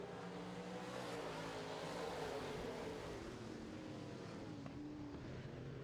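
Modified race cars speed around a dirt oval, their engines making a continuous, distant-sounding roar of overlapping motors at a constant level with no voices.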